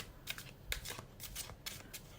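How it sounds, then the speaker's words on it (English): A deck of cards is shuffled close by at a tarot-style reading, giving quick rippling riffles and soft slaps in several short bursts, fairly quiet, with no talking. "We'll pick up the next deck and shuffle with intention."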